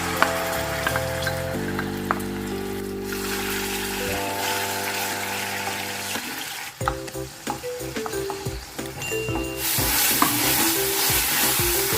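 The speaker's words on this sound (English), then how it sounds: "Fry the paste for 3-4 minutes on medium flame." Onion, garlic and ginger paste frying in oil over a medium flame, a loud close sizzle with repeated stirring and scraping, alone with background music.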